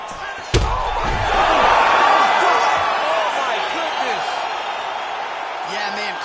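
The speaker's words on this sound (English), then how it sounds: "Crowd loving it." A crowd roars in a UFC 5 mixed martial arts bout after a fight-ending strike, opening with a sharp slam-like thud and then a loud, sustained cheer and whooping that slowly eases off.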